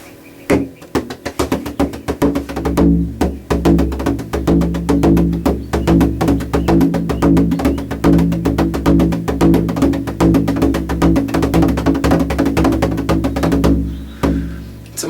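A tuned bodhran, its goatskin head dampened with water, struck repeatedly in a steady rhythm, giving deep low thumps with a sustained resonant boom, loud and close, with no talking.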